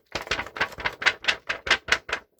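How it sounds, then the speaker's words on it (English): Very thin paper crinkling and rustling in a run of about ten quick, close, crisp bursts, evenly spaced, with no voice over it. "as you can hear, it is very, very thin paper."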